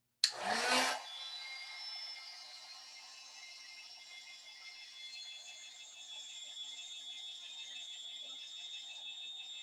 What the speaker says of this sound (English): Now you guys know I have a really old heat tool.